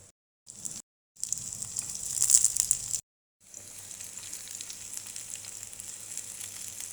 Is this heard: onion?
yes